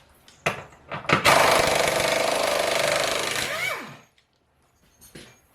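An impact gun drives a new bolt into a VW MQB rear subframe insert, a loud continuous rattling hammer burst of about two and a half seconds that winds down, with brief clanks before and after.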